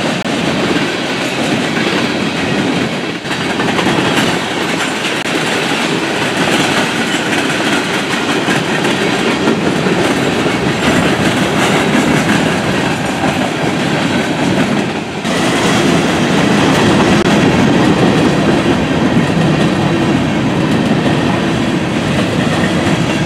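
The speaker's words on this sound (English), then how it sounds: "As the train continues to roll on by, some of the grain cars still carry their old Norfolk and Western logo" Grain freight train hauled by a GE C40-9W locomotive, some grain cars still bearing old Norfolk and Western logos, rolling steadily past close by with a loud, continuous rumble and clickety-clack of wheels, no voices.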